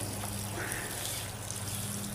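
Water pours steadily into a Bestway Steel Pro 15-foot by 48-inch above-ground pool, a continuous close gushing wash with no pauses.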